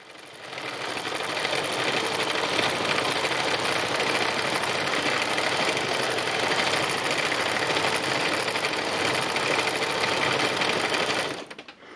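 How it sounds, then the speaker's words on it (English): A sewing machine runs nonstop during free machine embroidery, a steady, close mechanical whir and rapid needle chatter holding constant for about eleven seconds before stopping. "you can see I've set off sewing And I'm just going to do loads and loads of free machine embroidery"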